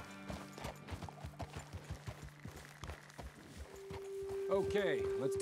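Horse hooves clip-clopping at a steady walking rhythm in Red Dead Redemption 2, close and distinct, then giving way to a horse's whinny and someone speaking as the rider stops.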